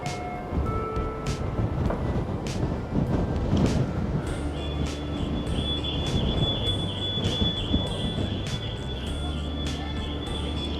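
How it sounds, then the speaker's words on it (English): Steady roaring wind buffets the microphone on a boat deck over a low engine rumble, with intermittent gusts and a faint hum throughout, during a Moss–Horten boat crossing in Norway. "it's very windy up here"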